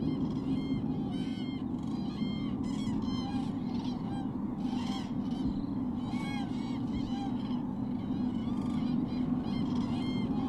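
Cranes calling while flying in a flock: repeated honking, trumpeting cries over a steady low rumble, moderately distant and layered, with no speech.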